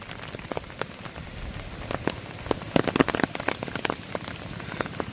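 Heavy rain pours down steadily, drops pattering and splattering densely on a hard surface, with no voices.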